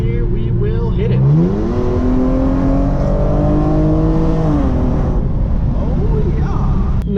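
A Genesis Coupe 3.8 with ARK downpipes accelerates hard from around 50 mph: a loud engine note climbs sharply in pitch, then holds its roar before easing off near the end.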